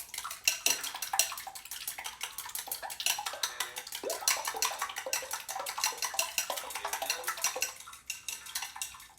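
Egg mixture with a drizzle of olive oil and salt is whisked briskly in a bowl, a steady run of rapid metallic clicks and scrapes against the sides, close and continuous with no talking.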